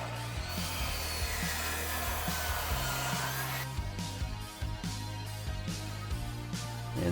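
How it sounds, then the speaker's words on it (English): A miter saw cutting angled ends on wooden posts for a shade arbor, a loud steady whining buzz with repeated cutting strokes and bumps throughout, no talk. "Miter saw gives me what I need here."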